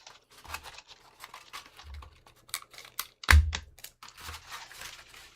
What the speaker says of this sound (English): You can hear my tape thumping on the mic.